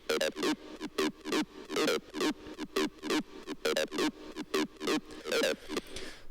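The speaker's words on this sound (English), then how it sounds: "So this is what the acid lead sounds like." A Serum acid lead synth from a big-room techno drop plays a fast, punchy run of bright staccato notes with a resonant, squelchy edge, loud and steady, no voices.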